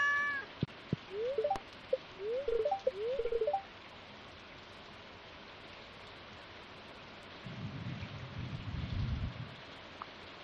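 Rain falls in the Stardew Valley farming game as a steady soft hiss, with a low rumble of thunder rolling in toward the end. A cat meows a few times early on, and no one speaks.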